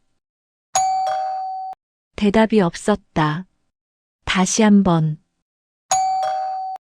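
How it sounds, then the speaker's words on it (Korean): A doorbell chimes twice, each a single clear ding that rings out and fades, with a narrator's voice speaking in between. "나는 초인종을 눌렀습니다."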